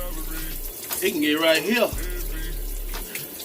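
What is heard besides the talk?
water poured into a bottle for washing dreadlocks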